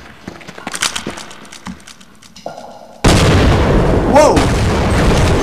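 Loud explosions and gunfire in the Half-Life video game erupt suddenly and roar on continuously, and a man exclaims over the start of the blasts.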